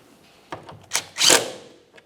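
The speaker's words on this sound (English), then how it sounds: "We'll start our 10mm headed bolt in there and snug it up." A 10mm bolt being snugged into an e-brake cable bracket on a 1997-2003 Pontiac Vibe, heard as a few short metallic clicks and ratcheting bursts followed by a louder, longer scraping ratchet, close by with no talk.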